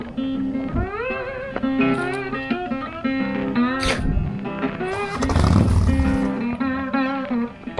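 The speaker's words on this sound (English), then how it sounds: "all the bikers are out on these roads, zooming up and down" Motorcycles zooming along a scenic road in South Korea, a harmonic engine whine that climbs and falls as the bikes accelerate past, with a louder roaring pass midway, fairly close and dominating the scene.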